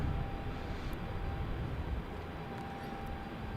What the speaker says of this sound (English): You have that Cessna just came in.